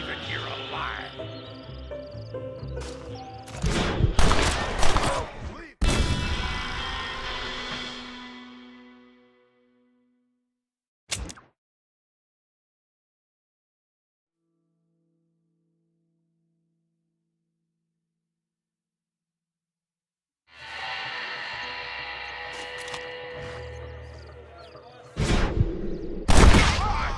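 Gunfire from the PS3 game Red Dead Redemption: loud bursts of shots near the start, a single crack, a long quiet gap, then another volley with game voices mixed in.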